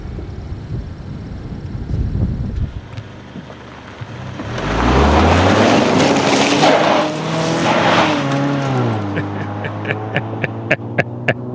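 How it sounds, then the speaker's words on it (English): A 2014 Mazda6 and an Infiniti M35 Hybrid do weak burnouts on a snowy surface. Engines rev and rise in pitch while tires spin and squeal, with wind buffeting the microphone, then a steady engine hum and sharp ticks. "we have got two of the lamest burnouts ever on video"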